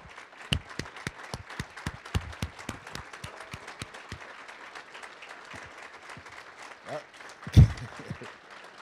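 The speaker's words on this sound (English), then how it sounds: "So stand up and give yourself an applause." Sparse applause from veterans at an alumni association reception, a few separate claps at first that thin out into quiet room noise, with one louder thump near the end.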